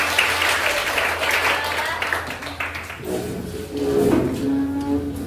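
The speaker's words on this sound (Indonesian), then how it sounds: "Tepuk tangan semuanya." A short burst of clapping from a group in a classroom, fading after a few seconds as voices and other sounds take over.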